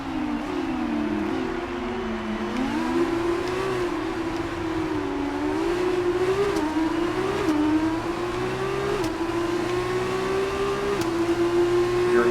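Formula 1 race car engine from a racing video game, holding a steady high-pitched whine that climbs and dips through gear changes for over twelve seconds, loud and continuous with no voices.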